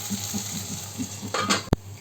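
Potatoes fry in a pan over medium-low flame, a steady close sizzle with faint rhythmic stirring taps, a brief rise in crackle, and one sharp clack of the utensil against the pan near the end.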